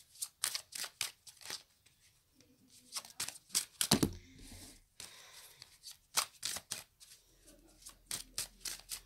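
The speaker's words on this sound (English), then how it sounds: "Give them a little bit of a shuffle." Soft, quick riffling and flicking of tarot cards in repeated bursts, close and quiet, with brief pauses between shuffles.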